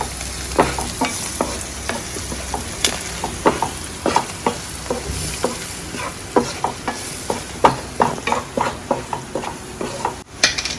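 Masala for a chicken roast sizzles in a frying pan while a spoon stirs and scrapes through it, steady frying hiss with repeated clinks and scrapes, close and loud, no talking.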